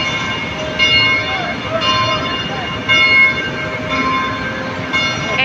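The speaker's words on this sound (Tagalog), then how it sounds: "Ayun po yung tren. LRT, papunta sa Pitex po." A steady rumbling rail hum with high metallic squeals and whines, an LRT light rail train running past at moderate distance below an overpass, loud and continuous.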